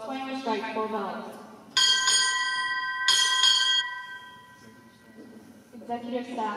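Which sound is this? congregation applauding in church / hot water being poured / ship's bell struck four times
ship's bell struck four times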